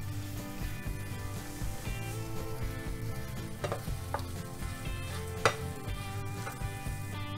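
Fried paneer pieces being stirred into masala in a pan, a steady sizzle under faint background music with a few sharp scraping clicks near the end; no talk.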